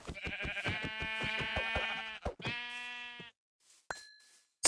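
Sheep bleating in Minecraft, a repeated wavering baa in rapid bursts for about two seconds, then a second shorter bleat, followed by a faint pause and a couple of brief bright chime-like blips.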